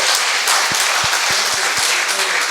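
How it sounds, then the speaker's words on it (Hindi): Sustained audience applause for poet Arjun Sisodiya at a Hindi kavi sammelan, a dense, steady wash of many clapping hands filling the whole stretch at close range. "एक बार जोरदार तालियां बड़े भाई के लिए आप निवेदित करें"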